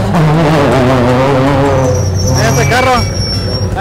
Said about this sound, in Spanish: Aquí el carro ya anda con todo,